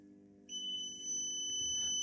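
A multimeter continuity beep while testing a repaired blue-and-white parking sensor cable: one steady, high electronic tone starting after a brief pause and holding to the end, clear and close over a faint hum.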